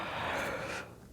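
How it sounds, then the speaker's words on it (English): A person lets out a soft, breathy yawn while stretching the jaw during a gentle yoga breathing practice. It is a single drawn-out exhale lasting about a second, close and fairly quiet, and it fades out at the end. "Maybe a little yawn."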